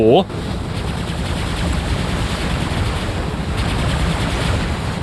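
Continuous roaring weapon fire from robots in the War Robots video game, a dense, steady wash of heavy rapid shots that runs for several seconds.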